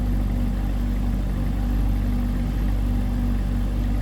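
2024 Chevrolet Corvette Stingray R 3LT V8 running steadily under throttle, a loud, continuous deep engine drone with a strong low rumble and no talk over it.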